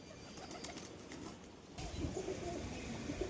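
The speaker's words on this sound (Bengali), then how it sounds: "এই যে নটটা যেটা ডাকছে" A male pigeon coos softly at a home loft, a few low throaty murmurs rising faintly over rustling background noise, with no one speaking.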